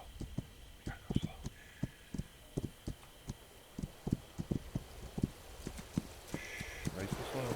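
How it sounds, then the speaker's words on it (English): A patrol horse in the video game This Land Is My Land clip-clops its hooves in a steady, evenly spaced rhythm, soft and somewhat distant, while someone speaks quietly over it. "That is a patrol horse."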